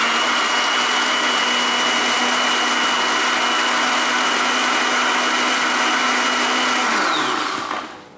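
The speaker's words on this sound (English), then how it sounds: "So just load everything into the blender." A blender whirs at a steady high pitch for several seconds while blending a paste with water for mee siam, then spins down and stops.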